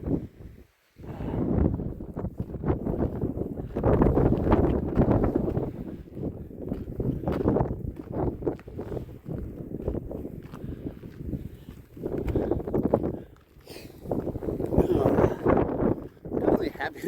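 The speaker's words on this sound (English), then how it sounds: "this wind, holy, I'm fighting for almost every step" Strong wind roars and buffets the microphone on a New Zealand hiking trail, loud and gusty throughout, with footsteps and a person talking underneath.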